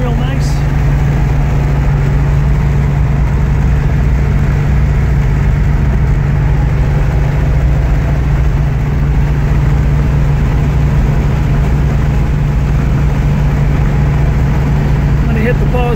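A 1970 Buick GS with a four-speed cruising at about 55 mph on a country road, a steady loud low engine drone and road rumble from inside the car, without a break.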